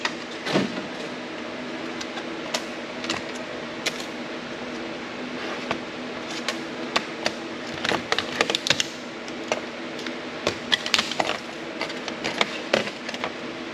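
Computer keyboard handled during e-waste scrapping: scattered plastic clacks, knocks and rattles at irregular intervals over a quiet background, moderately close.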